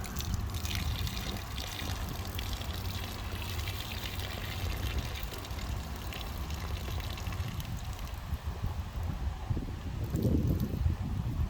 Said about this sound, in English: I'm gonna carefully run the water off of this